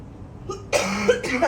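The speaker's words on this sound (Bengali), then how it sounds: "আমার সব জোকস আমার কাশি নষ্ট করে দিচ্ছে" A woman performing stand-up comedy on stage coughs, starting with a small throat sound and then a harsh burst of two or three loud close coughs.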